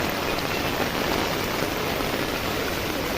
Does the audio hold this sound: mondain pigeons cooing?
no